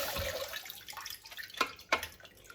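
Wheat berries and lentils rinsed under running water, with splashing and trickling, a few louder sloshes and drips standing out, close and without talk.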